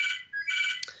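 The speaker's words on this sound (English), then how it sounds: "that's my phone ringing, so please just ignore that" A mobile phone ringtone chimes during an online public engagement meeting: a short, bright electronic tone pattern with a brief dip in the middle, heard alone and fairly close.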